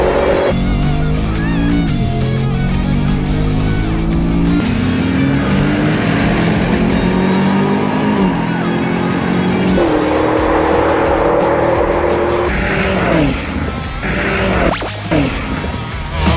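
A BMW X6M and a Mercedes-AMG SUV drag race, loud engines revving hard with stepped gear-change pitch drops, sustained near roar for most of the run, then tapering and more uneven at the end.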